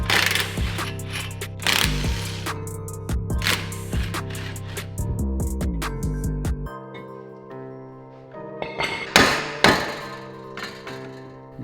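Heavy hammer blows strike a car hub to shock it loose, landing as a series of loud, close metallic impacts with ringing tails and irregular gaps, a quieter lull between them, then a final cluster of hits.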